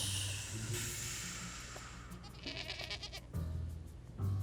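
A goat bleats during an outdoor yoga session, with several wavering bleats close by over a hissy background and no talking.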